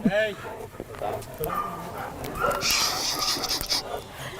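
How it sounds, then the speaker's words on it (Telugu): A dog of a dangerous breed at a farmhouse mini zoo pants and gives short whimpering yips close by, while people talk over it. "ఇది one of the most dangerous dogs breed"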